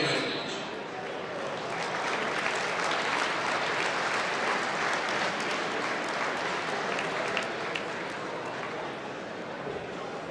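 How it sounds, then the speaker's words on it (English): A large audience applauds steadily at the close of an awards event, dense continuous clapping held at an even level throughout with faint murmuring voices underneath. "let's have a nice round of applause for this amazing event"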